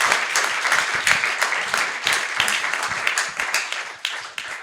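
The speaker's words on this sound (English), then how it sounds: "Round of applause" Conference audience at a healthcare event giving a sustained round of applause, dense steady clapping throughout at moderate loudness with no talk over it.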